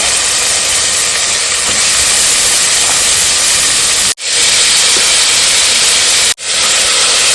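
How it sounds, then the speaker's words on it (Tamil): Four medium onions, finely chopped, hit hot oil for a pepper chicken gravy and sizzle with a loud, steady, bright hiss. It runs unbroken apart from two brief cuts, and no one talks. "எண்ணெய் சூடானதும் ஒரு 4 மீடியம் சைஸு வெங்காயம் பொடிசாக கட் பண்ணி வச்சுருக்கேன். அதை ஆட் பண்ணிக்கிறேன்."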